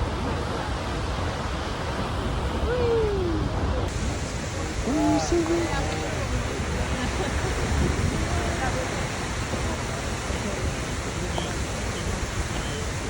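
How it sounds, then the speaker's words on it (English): Selfoss, a 60-metre waterfall in Iceland, roars as a steady broadband rush throughout, with people's voices and brief chatter faintly over the constant water noise. "this place called Selfoss, which is a waterfall"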